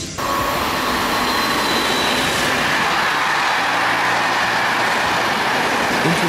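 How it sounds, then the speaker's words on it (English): An intercity passenger train runs close by with a loud, steady rushing rumble and hiss that holds throughout, with no voices. "Intercity train is a type of railway vehicle used to transport passengers and goods between provinces, cities, and regions."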